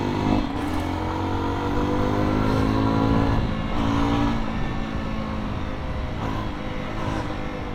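A Jawa motorcycle engine and exhaust while riding, a steady, loud, continuous drone with a low rumble that holds throughout, without talk.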